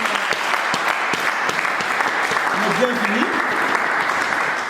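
A standing audience at a gathering in Minembwe, South Kivu claps loudly in a dense, sustained burst of applause while a voice speaks over it.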